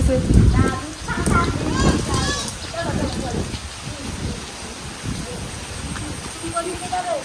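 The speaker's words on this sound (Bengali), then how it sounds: "এতক্ষণে বৃষ্টিটা একটুখানি কমে গেছে" Rain from a storm falls steadily as a soft, even patter behind the scene, while people talk close by over it.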